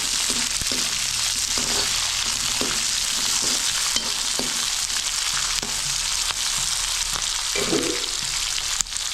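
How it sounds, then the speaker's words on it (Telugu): Green chillies stirred into hot oil with onions in a frying pan for a Telangana-style uppudu pindi, giving a steady sizzle and frying hiss with repeated scraping and clatter of the stirring spoon, fairly close, with no talking. "అదేవిధంగా పచ్చిమిర్చి మొత్తం వేసేయండి. బాగా కలిపేయండి."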